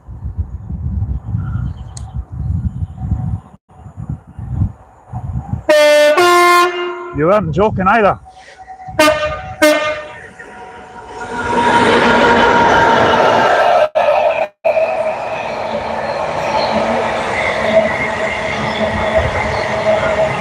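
A Class 66 diesel locomotive sounds a very loud two-tone horn in several sharp blasts at close range, then rumbles past with rolling wagon noise; a voice speaks briefly afterward.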